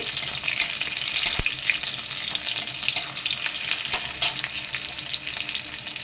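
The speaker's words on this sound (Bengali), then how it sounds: "এইবার দিয়ে দিচ্ছি গোটা রসুন কেটে রাখা রসুন পিস করে দিয়ে দিলাম একটু হালকা নাড়াচাড়া করে নেব" Chopped garlic frying in hot oil in a pan for a mourola fish jhaal, a continuous bright crackling sizzle with occasional stirring knocks, close and steady.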